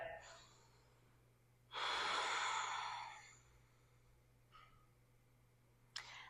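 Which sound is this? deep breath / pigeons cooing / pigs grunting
deep breath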